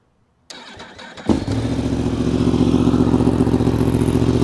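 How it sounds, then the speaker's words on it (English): A Yamaha R1M motorcycle fitted with an aftermarket exhaust cranks briefly with the starter, then fires and settles into a loud, steady, rumbling idle close by. "right now, we're just gonna go ahead and fire this thing up, see how it runs, see what it sounds like"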